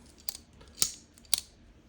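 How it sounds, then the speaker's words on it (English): A Knafs folding knife snaps open three times in a quiet room, each a sharp, close metallic click spaced about half a second apart. "this has got kind of a snapping sound that you hear when you open it"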